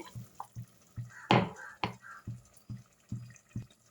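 Water poured from a rinsed mixer jar into rice in a cooking pot, heard as a series of short splashing pours and drips in quick succession, close and fairly quiet.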